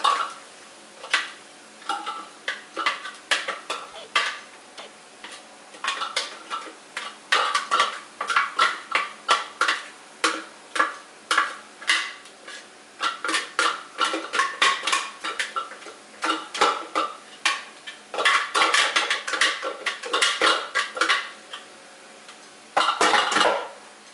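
Minced meat cooks with carrots, peas and onions in a pan for samosa filling, heard as rhythmic, repeated spatula scraping and stirring against the pan over a faint sizzle.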